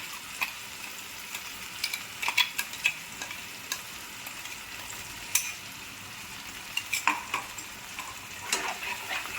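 Ground spice paste of cumin, onion, garlic and ginger with salt and turmeric sizzles and fries steadily in a pan, broken up by repeated sharp scrapes and taps of stirring, with no talk.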